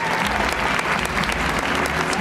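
A crowd at an animal show at Busch Gardens Tampa claps loudly and continuously, a thick, sustained wash of applause from many people with faint voices mixed in.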